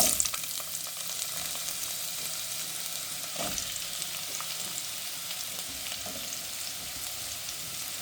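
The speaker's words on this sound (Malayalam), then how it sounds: "ഈ മാങ്ങ എടുത്ത് അതിലോട്ടിടുക." Mango pieces frying in hot sesame oil, a steady soft sizzle throughout with a faint stir or clink now and then, fairly quiet and close.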